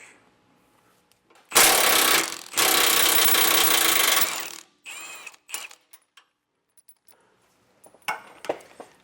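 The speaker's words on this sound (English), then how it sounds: "For the front bolt, we're going to be using an 18 millimeter socket." An impact wrench with an 18 mm socket loosens the front bracket bolt of an anti-sway bar on a 2019 Ford E-Series, giving two loud, sustained rattling bursts close by, followed by scattered clicks and clinks.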